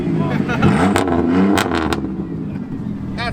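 Junkyard rally race car engine revving in a cornfield race, a rough, rising roar heard up close with clattering and rattling, while people talk and shout over it.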